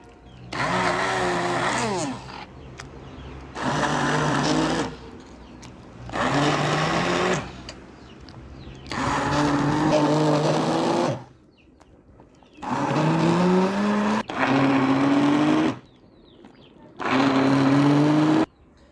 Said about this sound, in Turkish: Tabi şimdi blender'a vuracağız. Şu şekilde blender'ımız içine koyduk.